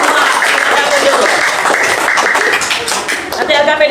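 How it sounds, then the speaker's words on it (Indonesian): A classroom claps for a student group, scattered taps of applause mixed with voices and chatter, fairly loud and close throughout. "tepuk tangan buat kelompok"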